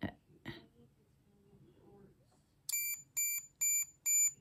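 Some faint rustling and low hum, then four evenly spaced high-pitched electronic beeps from a diamond tester, clear and fairly loud.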